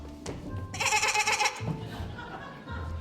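A single goat bleats loudly and nearby in a brief, wavering burst, followed by lower murmuring background sound.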